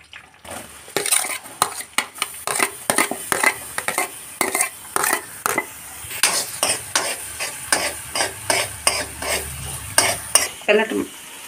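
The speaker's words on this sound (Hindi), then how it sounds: "अब हमने इसमें बटर डाला है और बटर में हम बारीक कटे हुए प्याज को फ्राई करेंगे।" Finely chopped onions sizzle in butter in a pan while a utensil stirs and scrapes repeatedly in a steady rhythm, close and moderately loud.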